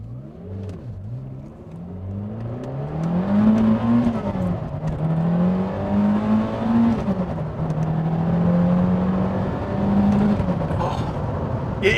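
Lotus Esprit, a 1990s supercar of about 350 horsepower, accelerating hard on a main road, engine note climbing through several gear pulls in a loud, rising and falling in-cabin roar.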